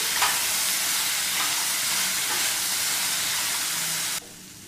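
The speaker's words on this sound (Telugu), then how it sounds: "పప్పును తాలింపులో కొంచెం సేపు వేయించుకుందాం, మసాలా అంతా పట్టేటట్టు" Cooked lentils fry in a spiced tempering for masala pappu, a loud, dense, steady sizzle filling the pan up close, dropping off sharply just before the end, with no talking.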